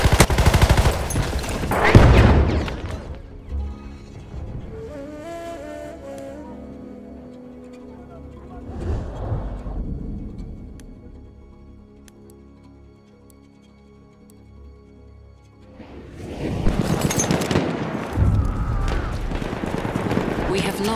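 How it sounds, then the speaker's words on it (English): Machine gun fire in the World War I shooter Battlefield 1 on the Suez conquest map: loud bursts of rapid fire and booms at the start and end, with quieter stretches and shouted voices between. "There's a machine gun!"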